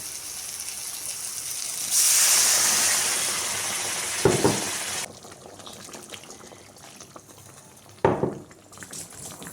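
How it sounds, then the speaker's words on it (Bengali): Water gushes loudly into a pot of soft boiled eggplant for a few seconds, then fades to a quieter trickle, with two knocks of the pot or vessel heard clearly. "এখন দিয়ে দেবো জল।"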